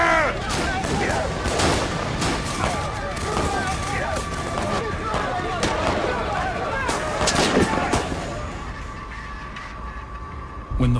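Reenacted gunfire from a Carnegie Steel strike battle, a volley of rifle shots and cracks in rapid irregular bursts, loud and close, with shouting and movement underneath.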